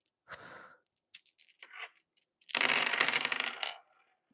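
Dice rattle and tumble during a tarot-style reading, with a short clatter, a few light ticks, then a longer rolling rattle before settling, close and fairly quiet with no talking.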